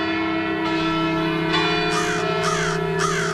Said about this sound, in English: as the cathedral bells rang out, so did 40 other church bells across Halifax